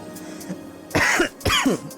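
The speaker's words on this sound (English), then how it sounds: "Sorry, a little cough. Something was in my throat." A person coughs and clears their throat twice in quick succession, close and fairly loud, with a brief quieter throat sound just before.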